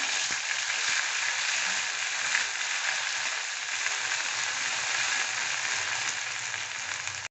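Ground onion, garlic and ginger masala fries in hot oil for a Khandeshi mutton rassa, a steady close sizzle with soft crackling and occasional faint stirring clinks throughout, no voices.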